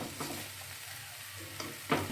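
Vegetables and chopped spring onion being stirred in a pan over medium heat, with a soft steady sizzle and a few brief scraping stirs near the start and end.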